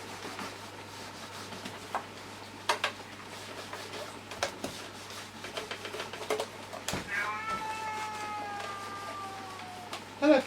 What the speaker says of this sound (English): I'm being growled at by a cat who knows that I'm not its rightful owner